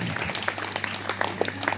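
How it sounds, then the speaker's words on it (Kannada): Applause from the audience at a religious Purana gathering held at a Hiremath monastery, a dense, continuous patter of many hands clapping at a steady level throughout the short stretch, with no talk over it. "ಜೋರಾದ ಚಪ್ಪಾಳೆಯೊಂದಿಗೆ ಅವರಿಗೆ ಧನ್ಯವಾದಗಳು"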